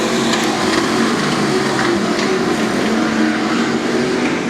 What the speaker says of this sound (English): You look at them hoik the front wheels up in the air as they get on the throttle